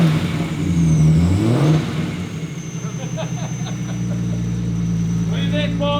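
A Volkswagen 12-valve VR6 engine with new 2150cc injectors and a new exhaust runs steadily close by, a brief rev swelling early before settling into a constant idle-like drone.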